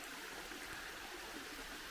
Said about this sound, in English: It's just a big old flat sliding rock type waterfall.